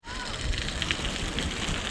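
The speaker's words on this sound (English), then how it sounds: "Oh, this entire wall is rains on you." Water trickles and drips steadily down the seeping rock face of Weeping Rock in Zion National Park, Utah, a close, constant patter of drops splashing on stone.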